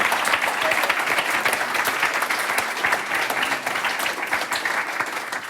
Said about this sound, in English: Can we have a hand applause for Mark?